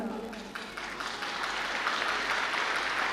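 An audience at a religious talk breaks into sustained applause, a dense wash of clapping that holds steady and swells slightly toward the end.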